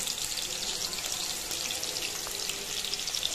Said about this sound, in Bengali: তারপর এখানে 4টা আস্ত বড় বড় পেঁয়াজ কুচি দিয়ে দিব